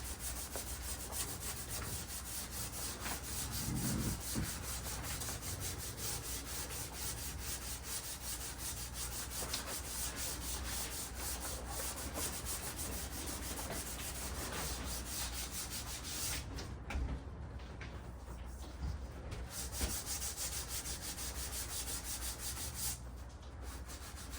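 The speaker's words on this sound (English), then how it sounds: "I'm going to try to sand off some of this contact cement too I got on the edges here." Contact cement is sanded off the edges of plywood veneer, a steady dry rubbing rasp that continues at an even level throughout, close up and with no talking.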